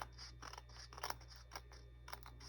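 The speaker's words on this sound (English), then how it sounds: "that's going to be my little scissors again" Small, thin-bladed scissors snip a stray thread on a handmade honeycomb cover, giving a few quiet, crisp clicks close by in an otherwise calm room.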